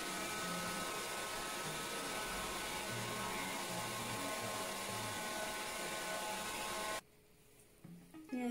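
A hair dryer blows steadily while drying 4C hair during an at-home keratin straightening, a constant loud airy roar that cuts off abruptly near the end, leaving quiet room noise and a faint rustle.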